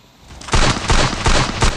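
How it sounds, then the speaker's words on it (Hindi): Gunfire in the mobile battle royale game Free Fire, a rapid sequence of about four loud, punchy shots in quick succession after a brief quiet start, close and prominent. "बहुत गोली मार रहे हैं लोग"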